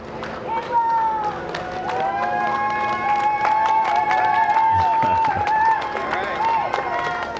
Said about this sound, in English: Small crowd, but big cheers.